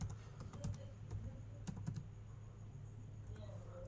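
Computer keys clack in quick, irregular taps, faint and close, over a steady low hum with a quiet voice underneath.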